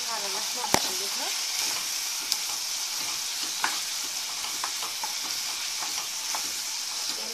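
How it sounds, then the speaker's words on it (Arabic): Veal sizzles in a pan with a spoonful of tomato paste for a tagine while a spoon stirs it, a constant frying hiss broken by sharp scrapes and clicks against the pan. "بعد كده انا جبت معلقه صلصه صغيره وحطيتها على اللحمه وهقلبها"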